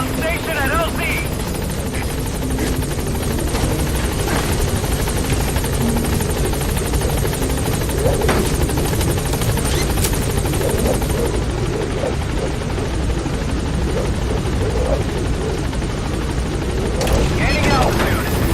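A helicopter in Metal Gear Solid V approaches a landing zone with a loud, steady rotor roar that fills the whole stretch, while radio voices talk over it.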